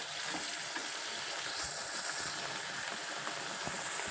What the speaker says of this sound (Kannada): ನೋಡ್ರಿ, ಅದು ಎಣ್ಣೆಗೆ ಫ್ರೈ ಆಗತೈತೆ